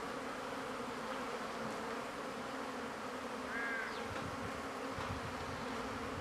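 A swarm of bees at a small hive with a queen gives a dense, steady buzzing drone close by, with an occasional louder individual bee passing near.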